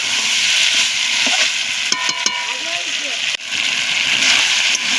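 Fried potato pieces and chicken sauté in a pan for chicken ghugni with a loud, close, continuous sizzle. Brief clattery knocks and a faint voice come midway, then the steady frying hiss carries on.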